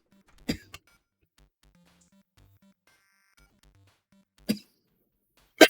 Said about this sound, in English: Sorry for coughing.